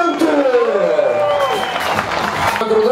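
A crowd at a drift event in Pinsk cheers and claps for a drift team, loud and sustained. A whistling, sliding tone rises and falls over the noise, along with scattered whoops.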